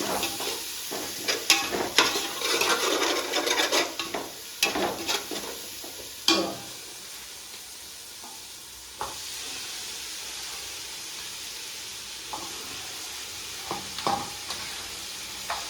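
A ladle stirs radish dhokli in hot oil, with a loud sizzle and clattering scrapes over the first several seconds. It then settles into a quieter steady frying hiss with occasional knocks.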